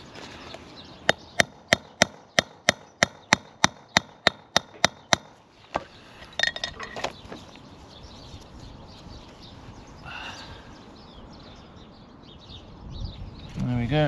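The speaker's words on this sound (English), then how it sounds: "I'm going to give it a few more taps." Sharp metallic hammer taps seat a wheel bearing on a Hayabusa motorcycle, about a dozen evenly spaced strikes close by, followed by a few scattered knocks and handling noises, then a short stretch of quiet.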